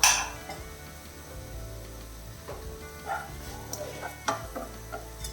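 Diced sweet potato goes into a hot pan and is stirred with a spoon. A soft sizzle runs throughout under scattered scraping and clinks of utensil against metal.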